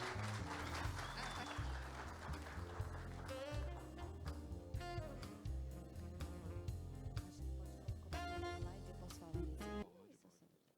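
Audience applause at a business channel forum, sustained clapping from a crowd over music for about ten seconds before it fades out abruptly.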